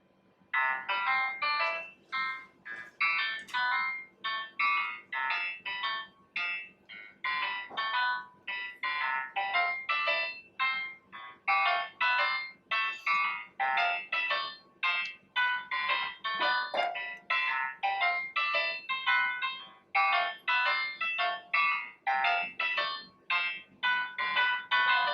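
A ringtone plays through the speaker of a Tecno Camon i12 phone, a bright repeating electronic melody of rapid tones that runs steadily for about 25 seconds with no voices.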